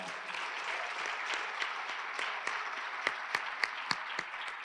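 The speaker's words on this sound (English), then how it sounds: "can we just give another round of applause for I.C. Norcom and the choir?" Audience at a school district event applauds a high school choir, a broad sustained clapping from a large room, with a few sharper individual claps standing out toward the end.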